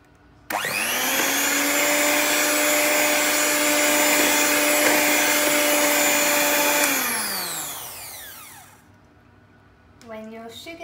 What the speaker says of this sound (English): then whisk it just on a low level and then keep adding the rest of the sugar